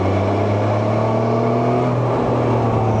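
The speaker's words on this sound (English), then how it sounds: "Let's roll on that throttle." A 2026 Can-Am Canyon three-wheeler accelerating as the throttle is rolled on, a loud, steady engine drone with a slowly climbing pitch and constant wind rush, heard from the rider's position with no talk.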